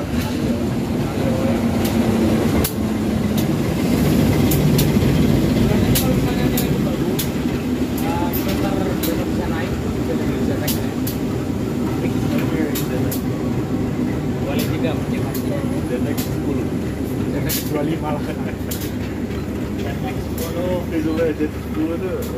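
The Kahuripan passenger train runs past with a loud, steady rumble and a series of rhythmic metallic clicks. People talk nearby under the noise.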